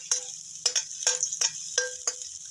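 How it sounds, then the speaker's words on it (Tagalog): Garlic sautés in hot oil in a home-cooking pan, a steady high hiss punctuated by crisp spitting crackles every half second or so, close and alone with no talking. "At dahil mainit na yan, igigisa na natin yung ating bawang"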